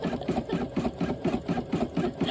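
A Brother SE700 sewing and embroidery machine stitching steadily, with a rapid, even mechanical chatter of needle strokes repeating at a regular pace, close and continuous with no talking.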